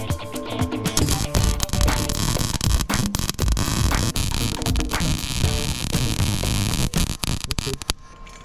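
Lincoln MIG welder laying down weld spots, a steady crackling, buzzing arc with dense broadband sizzle that runs nearly continuously for about eight seconds, loud and close, with brief dips between beads and no talk.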